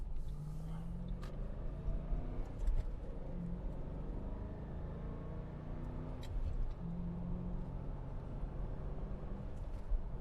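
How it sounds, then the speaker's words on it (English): A car motor runs as a steady low rumble through the whole stretch, heard from inside the vehicle with a few faint knocks and clicks over it and no clear talk. "Did you hear the motor?"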